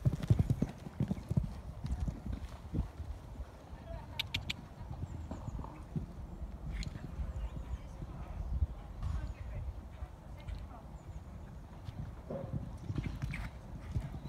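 A horse canters around an arena at an 85cm show-jumping qualifier, its hoofbeats thudding in a steady rhythm on the footing. The hooves sound moderately distant and soft, and a rider's coach calls out over them now and then.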